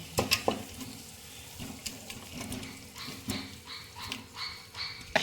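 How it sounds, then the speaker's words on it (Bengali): Spiced mutton being stirred in a pan before it goes into a pressure cooker, a low steady sizzle with irregular scraping and clinking stir strokes close by, and a faint dog bark in the background. "তার আগে আমি একটু ভালো করে নেড়ে নিচ্ছি যাতে পুরো মশলাটা মিশে যায়"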